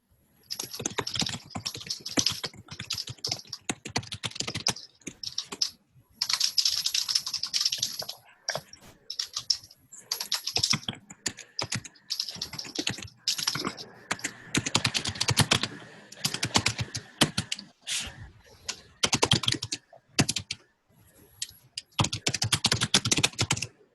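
Steady typing on a computer keyboard while entering messages into a chat, with dense runs of key clicks and short pauses throughout, close and fairly loud, with no talking.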